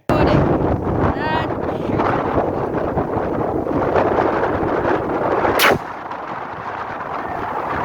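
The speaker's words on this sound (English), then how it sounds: "We'll give you a quick look now at a slug versus a watermelon." Axor Bushpig XT12 shotgun firing a slug into a watermelon outdoors, one sharp loud report near the end ringing out over steady wind noise on the microphone, with no talk.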